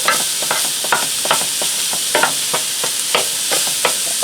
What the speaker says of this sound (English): So I'm just breaking up my ground beef.